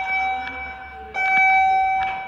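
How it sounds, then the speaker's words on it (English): An alarm bell rings in a new hydraulic DC elevator at a church, a loud sustained electronic tone that stops briefly near the middle and then resumes. "I'm ringing the alarm, or listen to this alarm bell."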